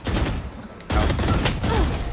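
Gunshots in Valorant, a dense, loud flurry of rapid shots nearly continuous across the clip, with a brief lull partway through before firing resumes.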